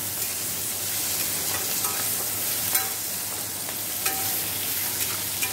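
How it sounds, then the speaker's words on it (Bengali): Onion, tomato and chillies sizzle steadily in a hot wok after a cumin and dried chilli tempering, a continuous crackling hiss with occasional sharper pops, and no voices. "কড়াইতে দেখো জিরে শুকনো লঙ্কা ফোড়ন দিয়ে পেঁয়াজ টমেটো লঙ্কাটা দিয়ে দিয়েছি"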